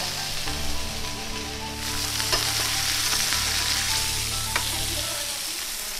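Steak with rosemary butter, salt and pepper searing in a hot pan, a loud continuous close sizzle with a low hum underneath and occasional light crackles, no talking.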